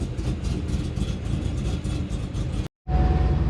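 A Cadillac CTS-V fitted with a Dart 427 V8 runs at a loud, choppy idle with a hard-loping cam. The rumble is steady and close, breaks off briefly, then returns.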